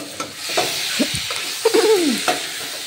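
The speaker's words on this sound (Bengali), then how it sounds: "এইভাবে আর একটু ভালোভাবে নাড়াচাড়া করে দেব" Vegetable pasta is stirred in a covered pan after cooking on low flame, a close, loud sizzle broken by spoon scrapes and knocks against the pan.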